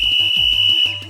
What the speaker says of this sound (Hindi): ये सीटी की आवाज है